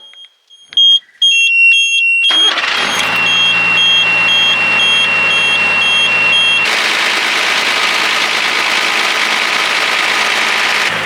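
After a few electronic beeps and a chime, a car engine starts and runs steadily, a loud continuous rumble with a high beeping tone layered on top.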